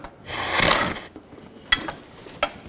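A swivel socket works bolts loose on a 2.4L Jeep Wrangler engine during a timing belt and water pump job: a rasping ratchet-like burst followed by a few sharp metallic clicks, close-up.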